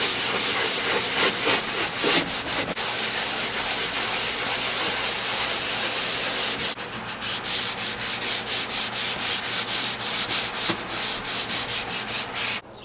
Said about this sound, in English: and I can finish sanding